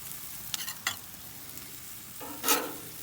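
Salmon fries in a pan beside searing chicken, a soft sizzle under a few sharp scraping stirs of a utensil, ending with a brighter burst of sizzle as the fish is lifted off.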